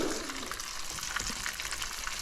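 Steady, close sizzling of porgy fish frying in hot oil, a continuous crackling hiss with no talking.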